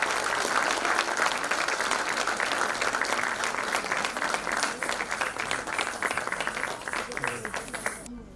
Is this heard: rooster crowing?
no